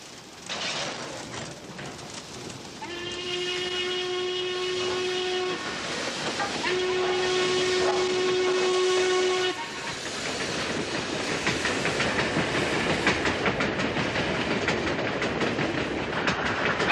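A steam locomotive whistle sounds in two long, loud, sustained blasts over the steady rumble and clatter of a Pennsylvania Railroad eastbound passenger train rolling along the tracks.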